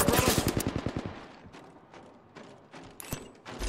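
Rapid automatic gunfire strikes a player in an Apex Legends match on Nintendo Switch, a loud burst of evenly spaced shots up front followed by scattered fainter impacts and a sharp hit near the end.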